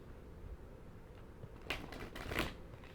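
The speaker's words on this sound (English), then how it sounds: "So I'm just shuffling from the last group, and one more shuffle" A tarot card deck is shuffled quietly at close range, with two brief, crisp riffling bursts near the end over a faint, steady background.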